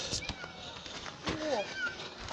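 Cat meowing a few times at moderate distance inside a cave, short rising cries over quiet background, with people talking softly nearby.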